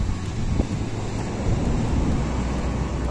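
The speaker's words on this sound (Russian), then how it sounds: "Я хочу просто, чтобы вы послушали море," The sea on a Spanish coast in a light wind, a continuous low rumbling roar of surf with gusty buffeting, steady and fairly loud throughout, no voices.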